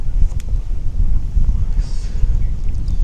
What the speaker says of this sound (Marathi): वाराचा आवाज बस.